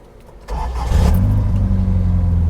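An MG car engine cranks and catches, then settles into a steady low idle, close and loud.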